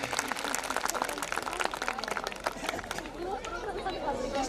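Audience at a school annual function clapping in a dense, sustained burst of applause with crowd chatter, fading slightly toward the end.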